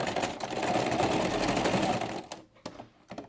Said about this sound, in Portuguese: você vai trazer na máquina e vai dar uns pontinhos pra já fixar o puxador